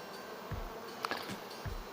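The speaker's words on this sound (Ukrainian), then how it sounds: "Ося сіренька молоденька бджола" Young grey honey bees buzz close by in a soft, steady drone during an autumn nectar flow from Weyrich knotweed, with a few louder passes of individual bees.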